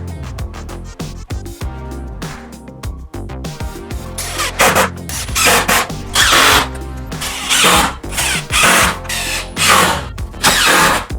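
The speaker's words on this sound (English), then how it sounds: "then I'm gonna put screws from the back side so you can't see them" A power drill drives screws into wooden desk legs in a run of close, loud bursts, short at first, then longer whirring pulses, with no talking.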